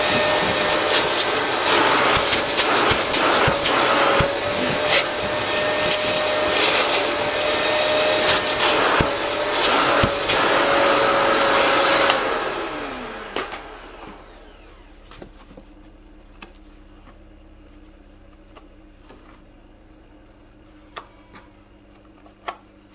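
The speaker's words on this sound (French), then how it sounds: "Même passer un petit coup d'aspirateur, ce que je vais faire pour enlever toute la poussière qui peut rester coincée entre les fibres." A vacuum cleaner pulls dust from the felt soles of wading shoes, a loud, close, steady whine with ticking knocks as the nozzle works, winding down halfway through before faint taps in near quiet.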